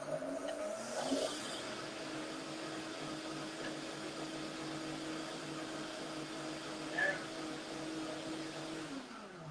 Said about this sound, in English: Come on, Blender, go for it.